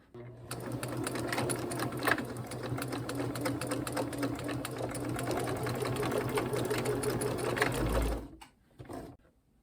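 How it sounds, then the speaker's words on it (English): A sewing machine stitching a quarter-inch seam on fabric scraps, a fast even mechanical whirr with rapid needle ticking that runs steadily, then stops near the end before a couple of brief clicks. "I'm just gonna do a 1/4 inch seam"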